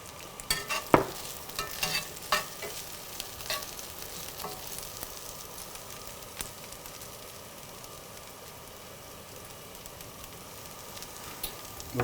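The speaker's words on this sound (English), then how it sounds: "And we're just going to give it a little stir." Hempeh being stirred as it fries in a pan: a few sharp scrapes and clacks of the utensil early on, then a steady, fairly quiet sizzle that carries on alone.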